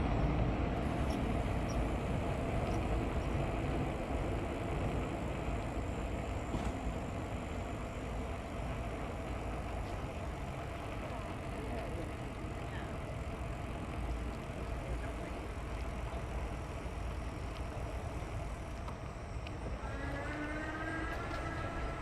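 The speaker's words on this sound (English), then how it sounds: "There's a subway train going eastbound on line 2 out of the old mill station." A steady low rumble of a Toronto subway train passing eastbound on Line 2 out of Old Mill station, broad and continuous throughout, with a faint rising whine near the end.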